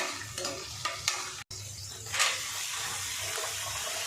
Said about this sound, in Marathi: आता तूप गरम झालं की मिरच्या टाकते.